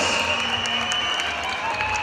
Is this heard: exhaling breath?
no